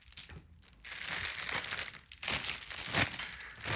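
A plastic bag crinkles and rustles steadily as a Lava ME Pro guitar is pulled out, in close, loud bursts with brief pauses.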